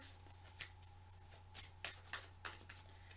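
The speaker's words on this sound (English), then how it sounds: "so let's shuffle some more" Tarot cards are shuffled in quick riffling bursts, several crisp ruffles in a row, close and fairly quiet.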